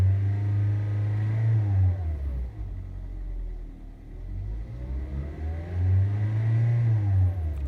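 A car engine revved up to about 3,000 rpm for a gauge test, rising twice into a held mid-pitched rev and easing back between, close and fairly loud with no talk.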